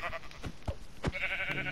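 A sheep in the video game Minecraft gives a short, wavering bleat at moderate loudness, with a few soft thumps just before it.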